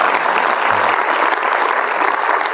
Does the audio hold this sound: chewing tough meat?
no